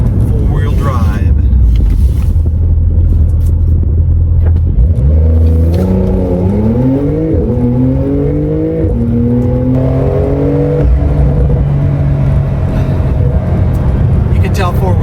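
Four-wheel-drive car accelerating hard, a loud engine drone rising in pitch through several climbs and gear changes, with steady road and wind roar underneath and no talk over it.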